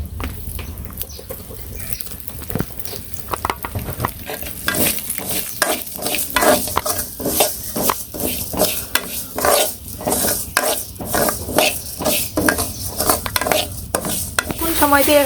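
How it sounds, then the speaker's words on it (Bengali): Lentils frying in a little oil in a pan, with continuous close sizzling and repeated stirring scrapes and utensil clinks against the pot, steady throughout with no talking. "ডালগুলো ভেজে নই একটু তেল দিয়ে দিই"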